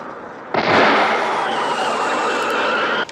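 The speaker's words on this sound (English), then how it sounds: "The first is a gunshot, and the second is a blowout." A gunshot followed by a car tire blowout in the 1981 film Blow Out, heard as a sharp burst and then a sustained loud rushing hiss lasting a few seconds, with no voices.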